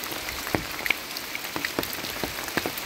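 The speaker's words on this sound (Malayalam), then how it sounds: "നല്ല സൂപ്പർ മഴ പെയ്തുകൊണ്ടിരിക്കുകയാണ് ഇവിടെ." Heavy rain falls outdoors in a forested property, a dense steady patter on surfaces with a few sharper nearby drips standing out, heard alone without voices.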